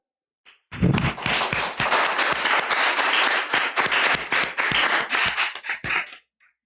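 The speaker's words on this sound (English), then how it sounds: "A round of applause for her." A crowd breaks into sustained applause, many hands clapping loudly and steadily for several seconds before it fades out.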